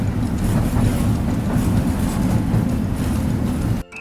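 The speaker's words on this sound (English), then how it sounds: "Tram." A tram runs on rails with a steady, loud low rumble and rolling wheel noise that continues evenly before cutting out abruptly near the end.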